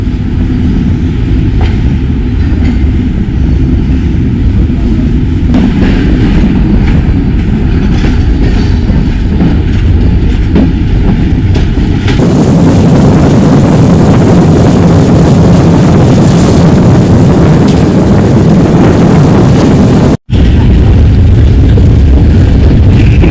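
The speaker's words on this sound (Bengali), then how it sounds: "এখন কমলাপুর থেকে ছেড়ে যাচ্ছে আমাদের ট্রেনটি।" Sundarban Express train 726 pulling out of Kamalapur station in Dhaka, a loud steady rumble of wheels and engine heard from on board that grows rougher and heavier midway, with a brief dropout near the end.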